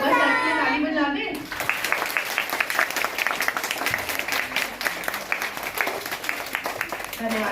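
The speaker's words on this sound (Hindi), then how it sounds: "थैंक यू एक बार सर के लिए ताली बजा दें।" A room full of children bursts into sustained applause for a guest, with quick, dense clapping that carries on steadily after a voice finishes speaking.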